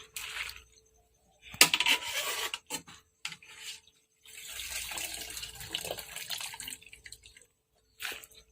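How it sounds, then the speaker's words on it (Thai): Termite mushrooms lifted from hot water are rinsed in cold water in a sink, giving intermittent splashing, dripping and rubbing in short close bursts separated by brief silences. "เราก็ตักออกจากน้ำร้อนนะคะ เพื่อจะมาล้างน้ำเย็นค่ะ"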